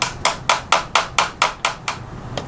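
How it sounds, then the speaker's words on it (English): A small hammer taps a pin into an IWI Tavor Raddlock magazine catch, giving about ten sharp, evenly spaced metallic strikes close by, the final two softer and more widely spaced. "You will need a small hammer to punch the pin back in."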